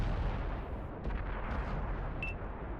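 Tank cannon fire in a tank video game, a dense, steady roar of booming gunfire and explosions running throughout, with no talking.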